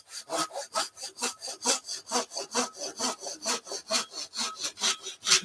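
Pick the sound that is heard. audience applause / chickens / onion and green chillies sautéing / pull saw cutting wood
pull saw cutting wood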